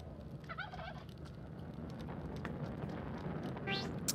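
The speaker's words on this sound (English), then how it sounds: "Oh man, turkeys are stupid." Turkey gobbling in the video game Spelunky 2, two short warbling gobbles, one early and one near the end, over a steady low game background.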